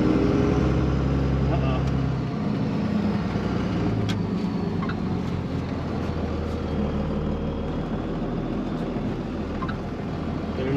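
A second-generation Dodge truck engine rumbling while driving, with a low drone that shifts in pitch about two seconds in as it downshifts, continuing steadily with people talking in the cab.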